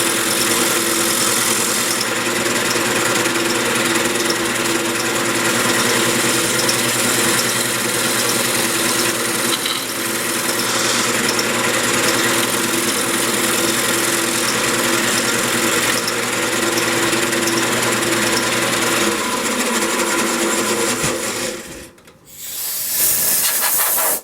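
Wood lathe spinning a mahogany candy dish while a tool makes a light scraping cut, a steady close hiss and hum with constant motor drone that briefly drops away near the end.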